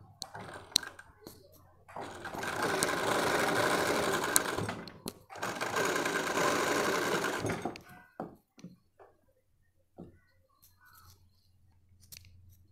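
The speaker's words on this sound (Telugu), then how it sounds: "మనం ఈ యొక్క డాట్స్ మనం ఇలా మనం కుట్టుకోవాలి." A sewing machine stitching bra fabric, running in two loud, whirring bursts of a few seconds each, then a scatter of short clicks and handling noises, with faint talk in the background.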